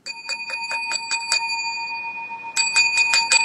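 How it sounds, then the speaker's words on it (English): A bell rings in two bursts of rapid, bright metallic dings, about six strikes, a pause with a lingering tone, then another quick run of strikes, loud and close with no talking. "Ooh, Robert, you might as well break the bell."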